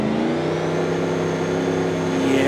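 A limousine's engine pulls hard in third gear in BeamNG.drive, a loud, close, sustained drone with its pitch climbing steadily, with no talk over it.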